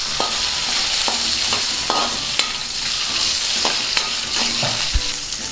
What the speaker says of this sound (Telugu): అలాగే పచ్చిమిర్చి ముక్కలు కూడా వేసేసుకుందాం. వీటిని బాగా వేయించుకుందాం.